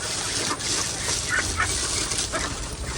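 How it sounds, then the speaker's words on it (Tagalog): Farmyard ducks feed hungrily with gabbling, scratchy calls and pecking noises amid other fowl, a busy close chorus throughout with no talk. "ayan na po ang ating mga itik na malakas na pong kumain"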